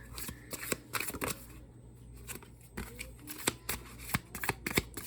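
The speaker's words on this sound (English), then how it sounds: "I shuffle these on live" A deck of tarot cards is shuffled by hand close up, giving repeated quick riffles and soft card slaps in an irregular rhythm over a low steady hum.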